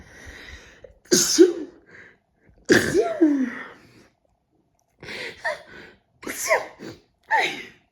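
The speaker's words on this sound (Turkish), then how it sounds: "Ne hapşırdım 10 kere hapşırırım" A person sneezes indoors several times in close succession, loud and near, each burst sharp with a breathy onset, separated by brief silences.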